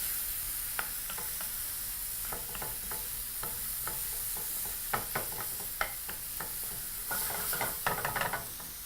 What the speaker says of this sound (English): Using a spoon, proceed to mix through.